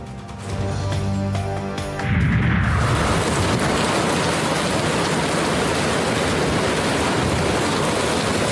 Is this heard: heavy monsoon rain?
yes